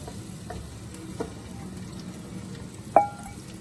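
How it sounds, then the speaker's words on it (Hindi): Eggs fry lightly in oil in a pan, giving a soft, continuous sizzle broken by a few small utensil clicks and one sharper metallic clink. "और अंडों को जो है हम फ्राई कर लेंगे हल्का सा।"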